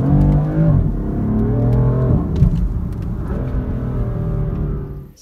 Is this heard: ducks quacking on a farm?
no